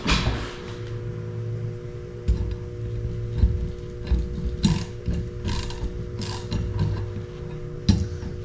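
A ratchet tightens a press clamped on a stack of sixteen quarters being prepared as a mokume gane billet, giving repeated close mechanical clicking strokes in uneven bursts over a steady low hum.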